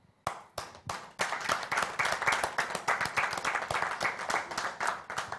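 A congregation claps together during a televised worship broadcast, starting with a few isolated claps and then settling into a steady, rhythmic group clapping that keeps an even beat throughout.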